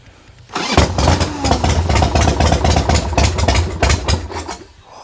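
A 1990 Harley-Davidson Sportster motorcycle engine cranks and almost catches, a loud, close, rough mechanical chug for several seconds that surges and then drops away without settling into an idle.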